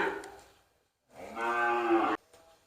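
A female cow at a Thai cattle sale gives one loud, drawn-out moo lasting nearly a second, close to the listener, with quieter lowing before it and a faint tail after.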